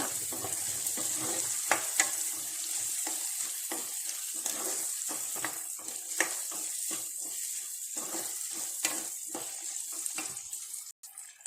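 Ghee tempering sizzles steadily in a pan for a sweet corn and greens snack, a continuous bright hiss broken by frequent sharp crackles and pops, close and fairly loud with no voices.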